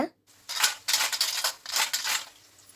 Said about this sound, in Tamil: மொறு மொறுன்னு இந்த சிப்ஸோட சத்தத்தை கேளுங்க